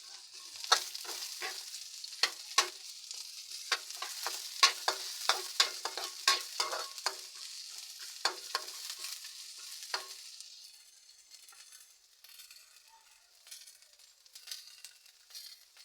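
Onion frying in a pan while being stirred, for a simple tilapia dish, with a steady sizzle and repeated sharp clinks of a utensil against the pan; the stirring stops near the end and a softer sizzle remains.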